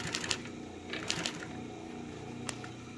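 A Consew 226 industrial sewing machine runs with a rough, rattling mechanical chatter, marked by a few sharper clacks and knocks as it wobbles on an uneven floor.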